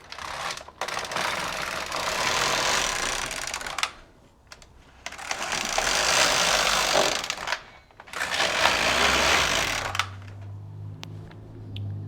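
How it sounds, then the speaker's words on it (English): A domestic knitting machine knits rows of a cardigan, its carriage sweeping across the needle bed in three long, loud rattling passes with short pauses between, close by and without speech. "we are going to knit 3 rows"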